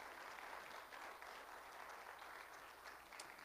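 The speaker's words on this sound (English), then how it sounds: "can you give your pastors a hand clap?" A church congregation claps for their pastors in a sustained round of applause that stays fairly even throughout and sounds somewhat distant and soft.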